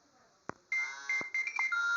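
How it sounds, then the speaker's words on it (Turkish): A phone rings with bright electronic tones that start abruptly and repeat in short steady bursts, with a few clicks and knocks around them, fairly close and moderately loud and with no talking. "Telefon çalıyor."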